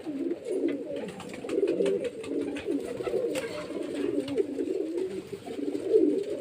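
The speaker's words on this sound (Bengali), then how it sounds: "ভালো ভালো পায়রা আছে অনেক পায়রা আছে" Many pigeons at a pigeon sale in Beldanga, Murshidabad, cooing together in a low, overlapping warble, close and steady, with faint rustling and clicks in the background.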